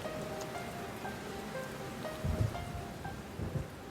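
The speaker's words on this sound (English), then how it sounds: "The sound of rain and the piano is deliberately added to emphasize the feeling of seclusion." Steady rain sound effect in a student film, a dense hiss of falling rain throughout, with soft sustained piano notes and a couple of low rumbling thumps near the end.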